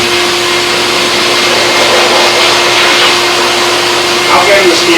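Self-serve pet wash dryer blowing on a dog at a pet supply store, a loud continuous whooshing roar with a steady motor whine throughout, close and unbroken.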